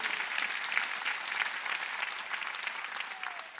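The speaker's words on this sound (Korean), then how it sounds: "이거 박수치" Congregation clapping together during a church service, a dense, steady wash of applause held evenly close throughout.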